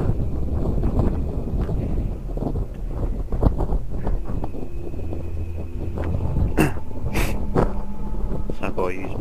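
Gusty wind buffets and roars across the microphone continuously in a cemetery, with voices talking underneath and a few sharp knocks near the end.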